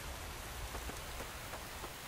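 Steady rain falls in the video game The Infected, a dense, even hiss of drops pattering on surfaces, with occasional louder splats scattered through the wash.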